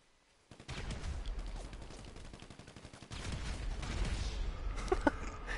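Gunfire from the Grand Theft Auto video game, a mix of single shots and rapid bursts crackling through the whole stretch at moderate loudness, with game noise underneath.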